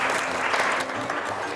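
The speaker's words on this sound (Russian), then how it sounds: "Аплодисменты!" A burst of dense, steady applause from a crowd fills the whole moment.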